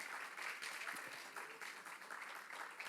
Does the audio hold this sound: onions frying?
no